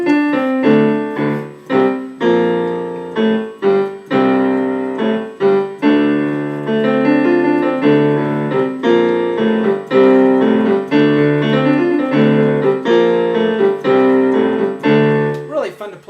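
Slow piano playing with both hands: sustained chords and a low bass line under a steady, unhurried melody, played close and clear for about sixteen seconds.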